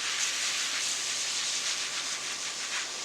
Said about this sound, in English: So we just want to pump up this, get some pressure in here, and then you just spritz it on the leaves.